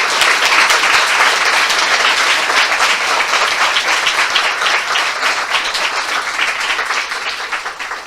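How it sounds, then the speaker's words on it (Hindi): A church audience gives Jesus Christ a loud, sustained round of dense clapping. The applause carries on steadily for several seconds, then begins to thin and fade toward the end. "आइए हम प्रभु यीशु मसीह के लिए एक जोरदार ताली बजाएं"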